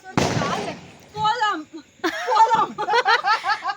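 A single sharp pop of a paper firecracker bursts at the start, followed by people laughing and chattering nearby.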